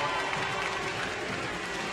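A crowd cheers and claps for para swimmers in the pool at the London 2019 World Para Swimming Championships, a dense continuous roar of noise throughout.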